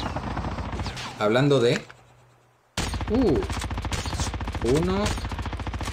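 Kilo rifle shots in the video game COD Mobile come as loud bursts of rapid gunfire, the first at about one second and more in the latter half, with someone talking between and over them.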